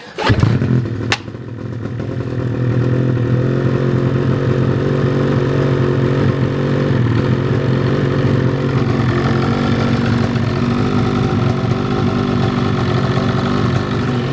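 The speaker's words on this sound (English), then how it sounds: "First fire up with this GGB mountain can." Ski-Doo 850 Turbo snowmobile engine, 2022 Expert 154, fitted with a GGB mountain can exhaust, starts up after a brief crank and settles into a steady, loud, rumbling idle close by, with no talking.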